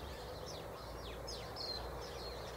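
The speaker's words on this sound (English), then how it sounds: "And the sparrows are singing." Small birds, sparrows, chirp and sing in a garden with a golden autumn tamarisk tree, a few short, fairly faint calls repeating over steady low background hum.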